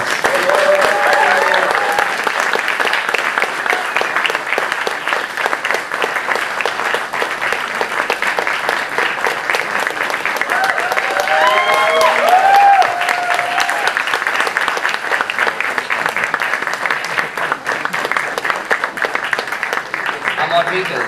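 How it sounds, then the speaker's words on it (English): Loud, sustained applause from a film festival audience welcoming a guest on stage, continuous dense clapping throughout with brief cheers and voices rising through it now and then. "can we please welcome Mr. Richie Mehta on stage with a huge round of applause"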